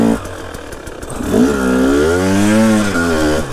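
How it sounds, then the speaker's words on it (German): A moped engine in a video game clatters at idle, then revs up loudly into a sustained, wavering buzzing drone that rises and falls in pitch and stays close and prominent. "einfach Moped nehmen"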